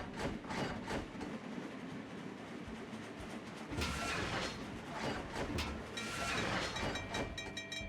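Trains roll along tracks in the video game Train Crisis: a steady rumble with rhythmic clickety-clack bursts and louder passes near the middle and end.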